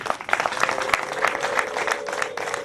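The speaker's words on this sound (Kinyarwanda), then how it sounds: "bampaye amashyi n'impundu" Guests at a Rwandan betrothal ceremony fill the room with dense applause, and ululation rises above it in a steady, lively wash of sound.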